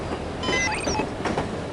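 Steady rumble and rattle of a moving train in the spy video game No One Lives Forever, with a few faint squeaks and metallic tones above a continuous, close clatter.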